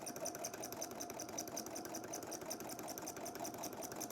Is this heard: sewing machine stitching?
yes